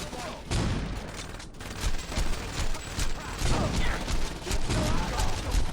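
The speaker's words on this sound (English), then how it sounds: "Let's break out the shotgun." A shotgun fires repeatedly in the video game Saints Row, with loud booming blasts at a steady pace over about six seconds, mixed with game action and mechanical noise.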